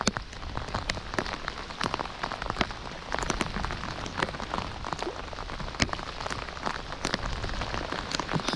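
A steady rain shower falls during a fishing trip outdoors, producing a dense, even patter of drops with scattered sharper splashes, continuous and fairly loud with no talking.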